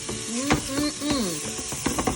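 Onions and garlic frying in a pan with a steady sizzle, occasional stirring scrapes and clinks, close up and moderately loud, no talking.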